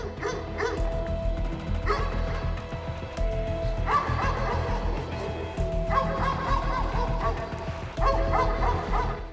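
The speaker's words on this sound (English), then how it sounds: "the guards rely on the well-trained dogs" Prison guard dogs bark in repeated bursts, with yips and whimpers mixed in, close and fairly loud against a busy background.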